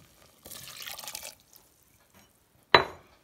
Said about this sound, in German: Und Wasser brauchen wir sowieso für die Suppe. Geben wir uns gleich nochmal eine Tasse drauf.